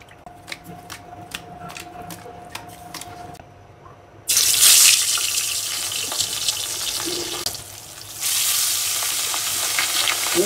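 Rohu fish frying in hot oil: after a few sharp ticks and knocks, a loud steady hissing sizzle takes over and swells louder toward the end, close and continuous.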